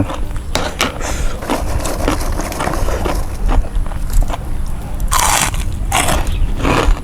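Crisp, fatty Thai pork cracklings (khaep mu) crunched close up, with a run of bites and chewing crackles and several louder crunch bursts toward the end.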